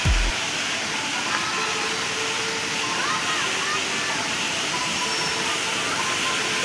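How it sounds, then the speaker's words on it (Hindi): Near Kailash Gufa Dham, a waterfall roars as a steady, dense wash of falling water, loud and constant throughout with no break. "ये देख सकते हैं पूरा झरना"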